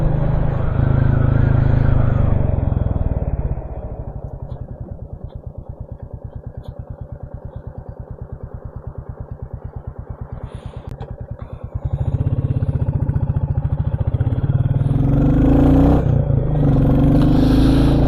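A Royal Enfield Classic 350 single-cylinder motorcycle with a decat pipe runs nearby, its loud throbbing engine dropping to a steady lumpy idle midway, then rising again as the revs come back up.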